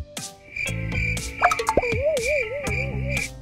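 The CatNap monster sound from Poppy Playtime layers croaking pulses and watery plops over a steady high drone, while a wobbling, siren-like whistle sweeps through the middle.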